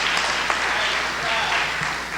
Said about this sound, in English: let's give these brothers a round of applause.